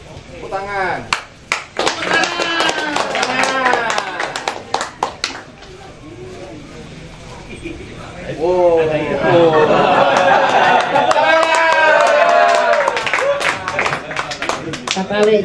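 Audience applause breaks out at a Gus Dur haul commemoration held at a culture school in Malang, with scattered claps early on and a louder sustained stretch of clapping and crowd voices later, mixed with talk throughout.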